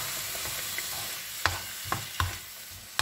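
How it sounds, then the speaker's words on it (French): Blended peeled tomatoes sizzle and fry in a pan for zucchini enchiladas, a soft continuous crackle broken by several sharp scrapes and knocks of a utensil stirring, close and fairly quiet. "ça a arrêté de frire"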